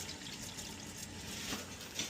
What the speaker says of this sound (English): Turn on the water. Slowly.